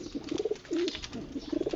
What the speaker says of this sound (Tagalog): Ito siya mga kalapatids, nag-breeding naman.